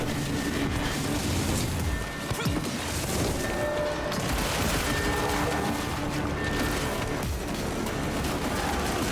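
Gauss rifle fire in the video game Evil West, dense repeated blasts and crashing impacts layered into a loud, chaotic continuous barrage of combat noise with no talk.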